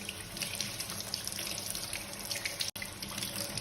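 Tap water runs steadily into a sink during handwashing, a continuous close rushing splash with a brief cut near the end.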